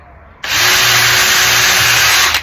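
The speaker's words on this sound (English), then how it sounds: "Line it up and drill through" A small bit in a power drill bores through a wooden box piece. A sudden, loud, steady high whine lasts about two seconds and then cuts off.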